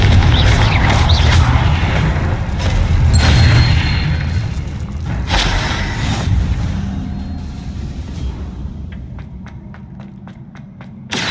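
Confringo spell blasts in the video game Hogwarts Legacy boom loudly with deep rumbling impacts, then the noise slowly fades as a few light ticking steps come through near the end.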